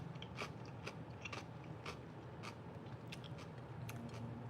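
Crisp bites into fresh cucumber come as sharp crunches a few times, each followed by quieter wet chewing, close to the microphone in a quiet room.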